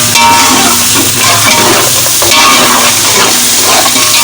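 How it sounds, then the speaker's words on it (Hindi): Beef pieces hit a hot pot and fry for yakhni pulao, giving a loud, steady sizzle with crackles and some stirring clatter throughout, no voices. "बस अब मैं इसके अंदर गोश्त डाल रही हूँ।"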